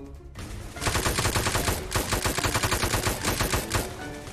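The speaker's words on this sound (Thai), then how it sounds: "ยิงมันดีลูกน้อง" Rapid automatic gunfire from the Roblox game Military Tycoon, dense bursts of shots rattling loud and close after a brief quieter start, with no talking over it.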